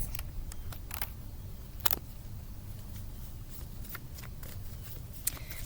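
Tarot cards are shuffled in a quiet room with soft riffling and papery flicks, a few sharper snaps scattered through, close and fairly faint.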